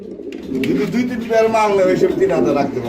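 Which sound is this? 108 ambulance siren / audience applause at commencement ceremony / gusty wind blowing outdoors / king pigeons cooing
king pigeons cooing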